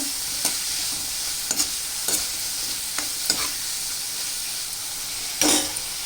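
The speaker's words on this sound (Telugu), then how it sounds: "ఇవన్నీ వేసి బాగా వేపాలండి ఈ రొయ్యల్ని" Prawns fry with garam masala powder in a pan for a ridge gourd prawn curry, a steady close sizzle with periodic stirring scrapes every second or so and no talking.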